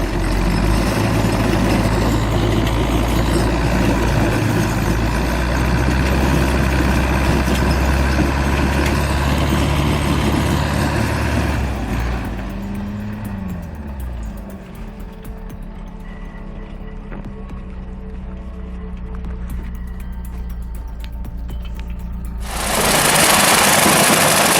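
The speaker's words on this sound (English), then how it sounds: "Ursus C360, flexing hard, pulling a BMW out of a frozen hole like a true beast" Ursus C360 tractor engine labouring steadily while pulling a BMW out of a frozen hole, a loud continuous diesel drone that eases and shifts midway before surging louder again at the end.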